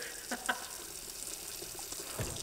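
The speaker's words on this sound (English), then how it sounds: "The sink is louder than the pump." Water runs steadily into a sink, a constant broadband rush with a few small splashes and clinks, heard alone at moderate level.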